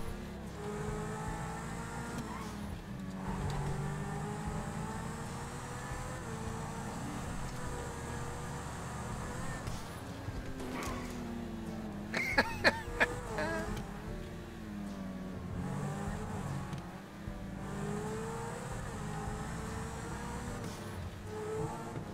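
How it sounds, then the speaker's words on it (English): A race car engine in a driving video game drones and revs steadily, pitch rising and falling through gear changes, with a brief cluster of sharp clicks near the middle. "This car's amazing too."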